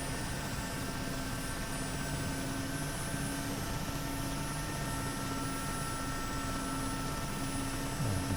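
A Mi helicopter in the DCS simulator runs its turbine engines and rotor in a steady, loud whine and drone with a constant tonal hum, taxiing on a runway with no talk over it.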